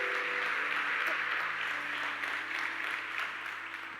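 Sustained applause from a church congregation fills the room, a steady broadband wash of clapping that holds evenly throughout with a low hum beneath and no one speaking over it.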